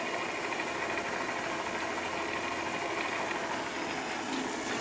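A Hobart 80-quart mixer running in speed one, gear driven, gives a quiet, steady mechanical whir and hum that holds constant throughout, with no voices.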